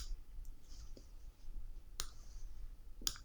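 Sharp isolated clicks of a computer mouse, about three distinct presses spaced unevenly over a quiet, faintly humming background with no talk.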